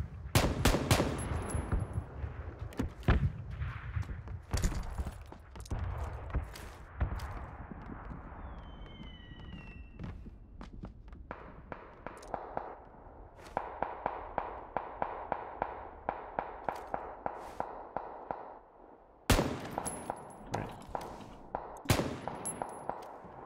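Enemy gunfire in PUBG, with repeated sharp shots and rapid bursts, some loud and close and others more distant, mixed with clanks and footsteps over a long stretch.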